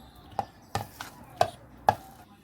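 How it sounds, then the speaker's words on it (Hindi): Four sharp knocking impacts, spaced unevenly, from a close kitchen machine chopping minced meat for gola kabab, with quiet pauses between them and no talking. "कीमे को मशीन में डालेंगे"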